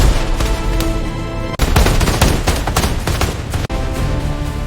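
Rapid gunfire in an armed battle between two sides, dense volleys and overlapping machine-gun bursts that crackle loudly and continuously with only brief breaks.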